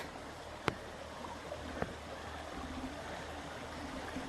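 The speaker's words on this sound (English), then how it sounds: "We're walking across the creek" Shallow creek water flows and trickles in a soft, continuous wash while someone walks across, with two sharp clicks or knocks standing out near the start.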